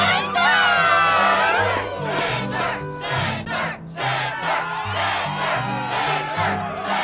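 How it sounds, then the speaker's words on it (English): A crowd in Kingdom Hearts 2 cheers and shouts at a struggle match, layered whoops and voices with music underneath, loud and continuous for several seconds. "the crowd is fired up"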